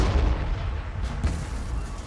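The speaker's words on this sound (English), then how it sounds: "that's all those huge orc cannons, the super cannon" Huge orc super cannons firing in the Warhammer 40k Armageddon video game, with deep rumbling booms rolling one into another over a continuous low battlefield roar.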